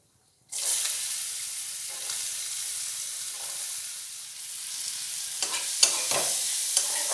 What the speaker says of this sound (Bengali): এই তিরিশ সেকেন্ড মতো পেঁয়াজ আদা রসুনগুলো ভেজে নেবো